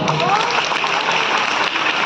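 An audience claps throughout a dance academy's fifth anniversary celebration. The applause is dense and loud and holds evenly for the full two seconds, with no pauses.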